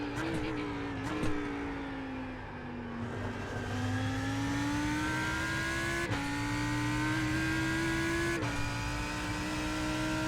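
A Lamborghini race car engine in a racing video game drones steadily and rises in pitch through the gears, with sharp upshift breaks and a loud, close tone throughout.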